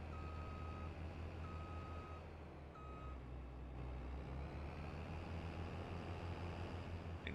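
A truck reverses in Farming Simulator 22, its backup alarm sounding in evenly spaced high beeps over a steady low engine rumble that runs through the whole stretch.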